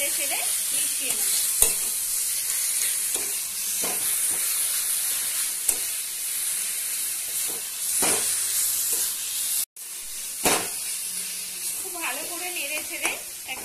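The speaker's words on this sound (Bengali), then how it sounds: "সমস্ত কিছুকে খুব ভালো করে নেড়ে চেড়ে মিশিয়ে নেব।" Taro greens with shrimp, green chillies and sugar being stirred in a pan, a steady loud sizzle with scraping spatula strokes throughout and a brief pause near the end, with some voice faintly underneath.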